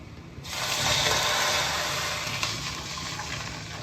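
Water pours steadily into a pan of spiced vegetable curry after a brief quiet start, a close, full gush that slowly eases off.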